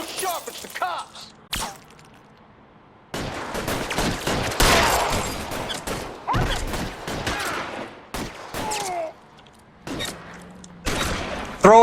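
Gunfire in a shootout in the game LA Noire, bursts of sharp cracks and rapid volleys separated by quieter gaps, with brief voices between the shots.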